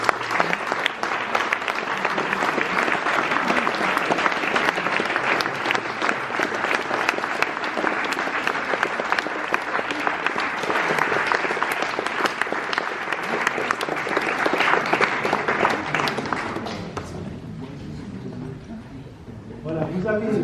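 Audience at an award ceremony for a library's 2019 prize gives a winner a long, dense round of applause that fades out near the end.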